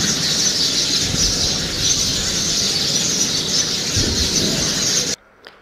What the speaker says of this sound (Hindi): चिड़िया की चहचहाने की आवाज़ आ रही थी